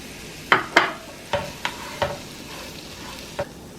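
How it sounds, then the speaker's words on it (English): Paella rice toasting in an oiled pan, stirred in a few distinct scraping, rattling strokes with soft sizzling in between, close and clear, with no talking. "We're going to add this to the pan and we're going to toast the rice."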